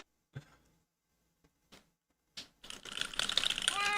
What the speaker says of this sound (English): The sound of her typing.